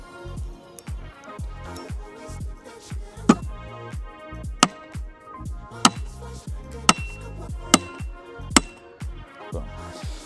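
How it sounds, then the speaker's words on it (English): A pricey premium hammer drives nails into wood: a steady series of sharp, ringing impact blows in quick rhythm, several landing harder and louder than the rest, with no talking. "obviously I use this hammer quite often, so I felt pretty at home driving those nails"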